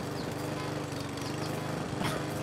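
A lawn mower drones through a video game, a buzzy steady engine hum with a fast regular pulse that holds at close range the whole time, with no talk over it.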